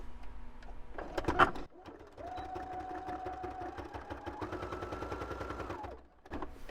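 A sewing machine stitching through paper notebook pages, a quick rattling burst of needle strokes, then a sustained run of rapid stitching whose motor whine rises in pitch before stopping, with handling clicks around it.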